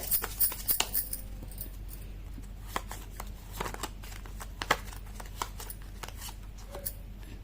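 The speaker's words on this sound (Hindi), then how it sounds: "मैं कर देती हूँ कार्ड की शफलिंग।" A deck of tarot cards is shuffled by hand close up, producing a continuous run of papery riffles and soft slaps, fairly quiet and uninterrupted by speech.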